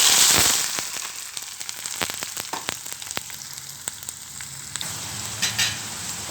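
Onions hit hot oil with lentils, mustard seeds, cumin and dried red chilies, starting with a loud hiss and settling into dense crackling and popping sizzle, close and unbroken.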